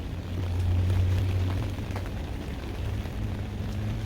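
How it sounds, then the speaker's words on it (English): Rain falls outside at night in a steady, dense hiss, with a faint low hum underneath and no voices. "and it's raining."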